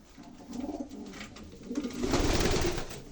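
Pigeons in a loft during breeding season coo in low, throaty, repeated phrases, several birds close by and overlapping, growing fuller toward the end.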